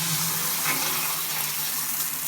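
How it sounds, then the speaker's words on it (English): Water sprays steadily from a shower just repaired after a leaking faucet fix, a constant broadband hiss of running water close by with no talking. "We can now turn the shower on."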